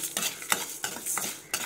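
Whole coriander and spices dry-roasting in an empty pan over medium flame, with a few distinct scraping stirs about every half second and a light crackle between them, close and fairly quiet.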